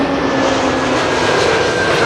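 Airbus A321neo arriving from London Heathrow onto Schiphol's Kaagbaan runway 06 gives a brief, loud, steady engine roar with a faint tonal hum, and no talk over it.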